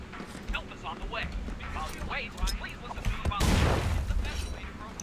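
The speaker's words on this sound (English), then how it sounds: "That's the impact grenade." An impact grenade goes off in The Culling, a sudden loud burst that swells into a dense rumbling roar for about a second and a half, cutting through busy game noise and chatter.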